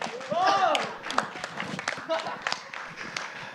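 Scattered applause from a stand-up comedy audience, a few loose claps and taps spread unevenly under a voice talking.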